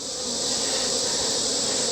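Honeybees buzzing steadily inside an open hive while beetle traps are fitted, a dense close swarm hum with no talk.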